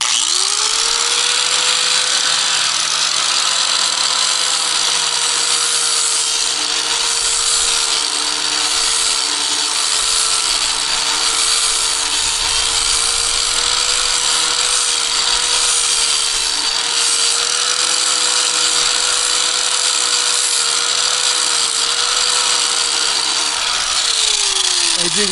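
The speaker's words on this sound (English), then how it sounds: "an inexpensive sander, polisher, grinder" A cheap Drill Master sander-polisher-grinder from Harbor Freight grinds rust off equipment, a loud, steady high-pitched whine with gritty abrasive scraping running unbroken throughout, winding down at the very end.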